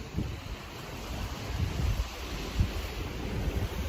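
Ocean surf rolls and washes on the Isle of Wight shore behind a campervan picnic spot, a soft continuous roar at moderate distance mixed with wind buffeting the microphone.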